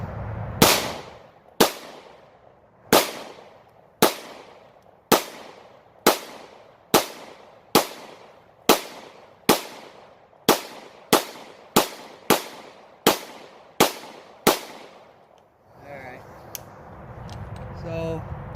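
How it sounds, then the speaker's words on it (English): Taurus TH9C pistol fired in a long string of about fifteen sharp, loud, echoing shots at a quick, slightly uneven pace, followed by quieter handling noise at the end. "Just put some more rounds right through there."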